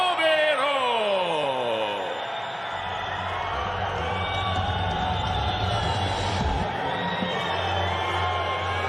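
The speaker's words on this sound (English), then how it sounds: "And listen to the crowd." A loud arena crowd at an ACA 95 MMA event cheers and roars continuously for a young fighter's entrance, with a rising whistle-like tone early on and steady dense crowd noise throughout.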